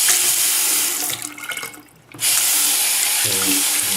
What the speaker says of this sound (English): I'm gonna try turning on the water.